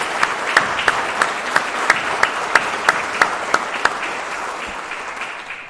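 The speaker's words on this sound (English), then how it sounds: "if we could give them a round of applause" An audience at a Marine Corps ammunition technician awards ceremony gives a round of applause, sustained clapping with several sharp individual claps standing out, gradually fading at the end.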